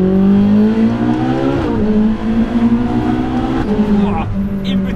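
Ferrari 458 Speciale V8 on a mountain pass drive, a loud sustained engine note rising through revs with gear changes, and a voice talking over it.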